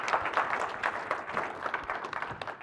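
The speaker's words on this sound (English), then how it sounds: "Let's give a round of applause." Conference audience applause at D2D CON 2020, a steady wash of many hands clapping at moderate volume for a few seconds with no break.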